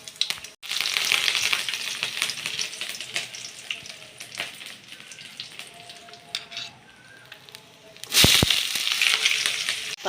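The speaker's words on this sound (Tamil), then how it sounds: "பட்டை சோம்பு பொரிய விட்டாச்சுங்க" Cinnamon and fennel seeds frying in hot oil for a Tamil drumstick-leaf vegetarian fry, heard as a continuous close crackling sizzle with scattered pops and a louder stirring flare near the end, with no talk.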